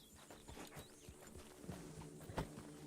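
A horse walks in Red Dead Redemption 2, its soft, distant clip-clop hoofbeats faint and uneven over low background ambience.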